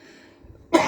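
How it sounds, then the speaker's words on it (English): A person with COPD lets out a single sharp cough in a humid room, close and abrupt after a short quiet stretch. "when it gets humid, I start coughing"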